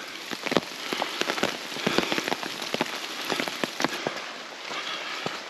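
Light rain pattering steadily on leaves and wet ground in a woodland on Raiatea, French Polynesia, with dense, irregular drop impacts close by and no voices.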